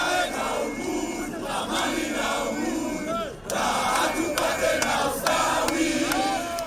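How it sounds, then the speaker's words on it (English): Crowd of protesters chanting against the Finance Bill in Nairobi, a dense, sustained roar of many voices with rhythmic surges, a brief dip midway, heard fairly loud from within or near the crowd. "Anti-Finance Bill chants rented the air in Nairobi on Thursday."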